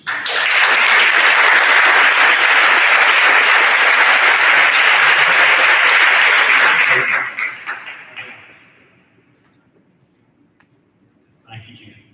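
An audience at a school board meeting applauds loudly and steadily for about seven seconds, then the clapping trails off into near silence, with a brief voice at the very end.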